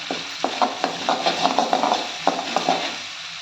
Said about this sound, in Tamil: கொஞ்சமாக பெருங்காயத்தூள் கருவேப்பிலையை நல்லா கிள்ளி போட்டுக்கலாம் எல்லாத்தையும் கிளறி கொடுத்துக்கலாம்